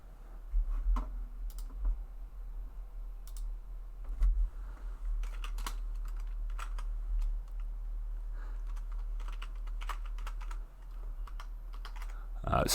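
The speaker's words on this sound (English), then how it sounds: "I've just got to do a bit of typing." Computer keyboard typing in steady bursts of clicks through most of the stretch, fairly close and moderately loud, with a low steady hum underneath and no talking.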